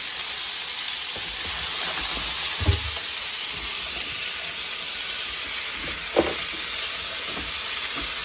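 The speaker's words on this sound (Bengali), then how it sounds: "মরিচ ভেজে নিচ্ছে" Chilies frying in a pan in a home kitchen, a steady, bright hiss and sizzle running throughout at an even level, broken by a couple of soft clunks.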